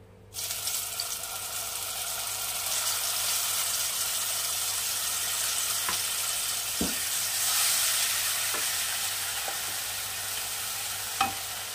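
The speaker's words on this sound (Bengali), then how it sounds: "আমি এই তেলেই দিয়ে দেবো যে মশলা বাটাটা তৈরি করেছি, সেই মশলা বাটাটা" A ground spice paste sizzles and gets stirred in hot oil for a Bengali singi fish curry. A steady bright frying hiss runs throughout, broken by a few soft scrapes and knocks, with no talking.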